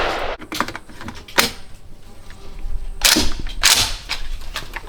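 Shots from an IWI Galil Ace Gen 2 rifle chambered in 7.62x39 crack out at irregular intervals, several sharp, loud reports, some in quick pairs, over a low outdoor background.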